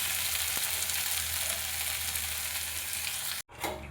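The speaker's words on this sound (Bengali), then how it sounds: "এবার এর মধ্যে জল দিয়ে দেবো।" Cauliflower and potato frying in a pan give off a steady, even sizzle that holds for several seconds, then breaks off abruptly and picks up again with a fresh hiss.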